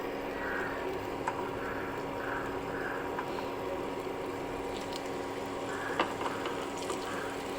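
Pieces of dried parava fish are dropped into hot oil in a cooking pan, giving a steady, moderately quiet frying hiss with a few faint pops and crackles through the whole stretch.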